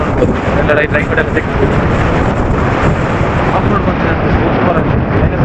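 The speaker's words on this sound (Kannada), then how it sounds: "ಈಗ ಗಾಳಿ ಸಹ ಜಾಸ್ತಿ ಆಯ್ತು" Strong wind buffeting the microphone on a hilltop during an offroad trip, a loud, rumbling, continuous roar that fills the whole stretch.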